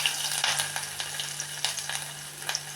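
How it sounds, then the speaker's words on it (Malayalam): Ginger frying in hot coconut oil just after mustard seeds have popped, for a dried-fish and prawn curry; a steady close sizzle with a few stirring scrapes and faint crackles, no talking. "കടുക് പൊട്ടിക്കഴിഞ്ഞ് നമുക്കതിൽ ഇഞ്ചി ഇടാം."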